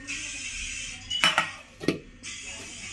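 Metal pan lidded in a home kitchen during a daily routine: two short clattering clinks of lid on pan, close and fairly loud, with a steady background hiss before and after.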